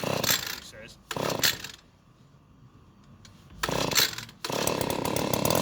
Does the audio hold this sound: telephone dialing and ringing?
no